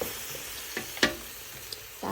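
Coconut milk hits a hot pan and sizzles steadily while being stirred, with a few soft clinks and scrapes of the utensil over the frying hiss, close and moderately loud.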